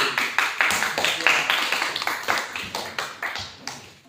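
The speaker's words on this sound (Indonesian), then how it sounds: "tepuk tangan lagi" Schoolchildren in a classroom clap together in a patterned, rhythmic beat, about a dozen sharp, evenly spaced claps close to the listener, fading slightly toward the end.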